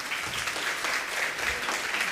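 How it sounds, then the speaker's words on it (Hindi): A crowd at a religious gathering with a Jain monk claps loudly and steadily, a dense, sustained wash of applause with no pause throughout. "एक बार जोरदार तालियां"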